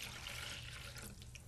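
Water being poured into a plastic stack cooker for a microwave cake, a soft brief trickle and splash, faint and close, with no talk over it.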